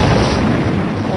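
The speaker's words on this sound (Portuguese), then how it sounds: "Tudo o que se podia ver eram clarões e sons de torpedo atingindo os navios, explosões." Torpedoes striking convoy ships during the Battle of the Atlantic, as a documentary sound effect: a loud, dense, sustained explosive roar with a deep rumble filling the whole moment.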